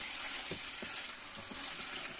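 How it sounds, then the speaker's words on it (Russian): Marinated chicken breast strips stir-fried in a hot pan give off a steady, bright sizzle, with a few soft scraping stirs breaking through the hiss. "Теперь добавляем замаринованную грудку и мешаем."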